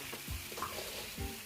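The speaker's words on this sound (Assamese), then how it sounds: "মই এয়া দেখিছে ধুনীয়াকৈ আকৌ লৰাই আছোঁ।" Broiler chicken pieces and spices frying in a kadai, a soft sizzle with a couple of low scraping thumps from a ladle stirring the meat, close but quiet, no speech.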